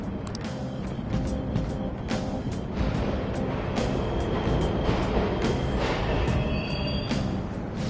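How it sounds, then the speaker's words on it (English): A subway train in a video game rumbles steadily through a tunnel, a continuous mid-level roar with clanks and a faint squeal, heard throughout. "The trains are totally running!"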